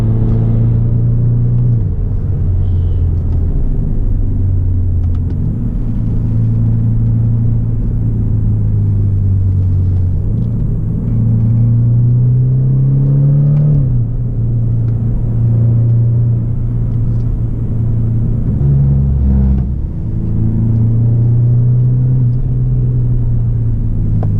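A BMW F30 328i M Sport engine and exhaust drone steadily on a mountain drive, heard from inside the car, with a loud continuous rumble that rises and falls as the revs change.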